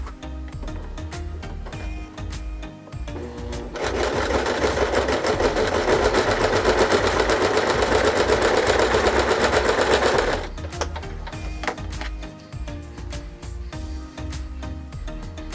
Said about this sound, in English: now I need to sew these last 2 together to complete the first flower.